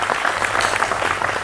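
Audience applause at a televised panel discussion on an India–Pakistan conflict, steady and loud clapping from a crowd filling the whole moment without pause.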